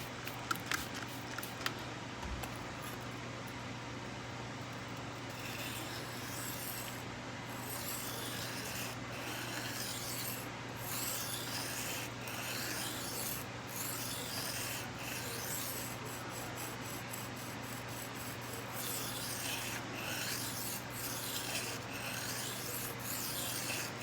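Knife blade rubbed back and forth on a sharpening stone, a steady gritty rasping scrape that continues without pause, close and fairly quiet, with occasional light clicks.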